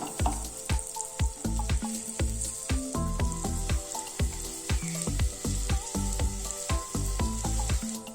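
Egg pieces fry in spiced masala with a steady loud sizzle, punctuated by repeated sharp clinks and scrapes as they are turned in the pan, no voices.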